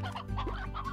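In Slime Rancher, a brief burst of clucking chicken sounds plays over game background noise, close and moderately loud, lasting about a second.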